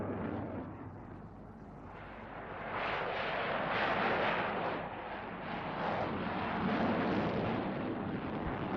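An F-16 combat jet flying at the Farnborough air show in 1990, a loud roaring jet blast that swells and rolls over several seconds, heard alone with no talk.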